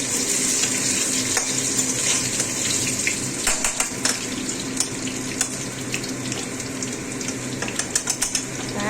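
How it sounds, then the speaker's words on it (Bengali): Potatoes fry crisp in hot oil with a continuous dense sizzle, punctuated by scattered sharp crackles and light clinks from stirring nearby. "আলুটা কিন্তু আমার কড়া করে ভালো হয়ে যাচ্ছে।"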